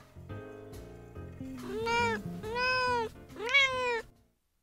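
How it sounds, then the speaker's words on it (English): Kittens meow close by indoors: a few low chirps, then three long, rising and falling meows in a row, fairly loud and alone before falling silent. "And the kittens, Pids and Grayson, have just finished a big game of chase behind me"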